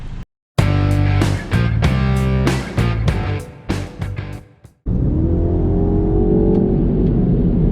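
A 231 hp Mini Cooper S JCW three-door engine revs hard in repeated bursts with sharp cuts between them, then settles into a steady loud drone as the car drives off under acceleration.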